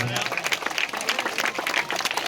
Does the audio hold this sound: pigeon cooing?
no